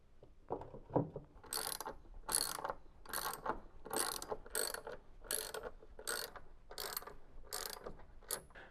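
A ratchet tightens 13mm bolts on a Beko washing machine counterweight, giving a steady run of about ten crisp clicking strokes in quick rhythm, close and fairly quiet, with no talk.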